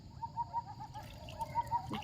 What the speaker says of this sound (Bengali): এই যে ফরেস্টের মধ্যে থেকেই আওয়াজ আসছে বিভিন্ন ধরনের পাখির